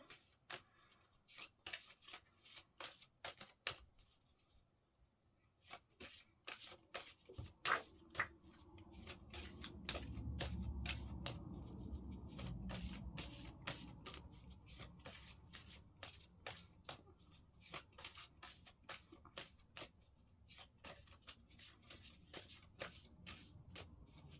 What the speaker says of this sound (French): je mélange les quelques cartes